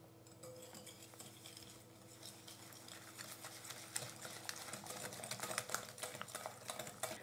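Eggs and sugar hand-whisked in a bowl for a lemon cake batter, a quiet rapid rhythmic clicking and tapping of the whisk against the bowl, growing slightly busier and louder toward the end.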